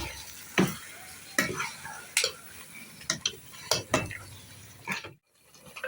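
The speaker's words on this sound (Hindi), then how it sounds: "कुटी हुई हरी मिर्च, नमक, मिक्स कर लेंगे अच्छे तरीके से।" Crushed green chilies and salt stirred into spices for Hyderabadi chicken biryani: a run of separate scraping, clattering strokes of a spoon in a pan, close and fairly loud, with short pauses between them and no talk.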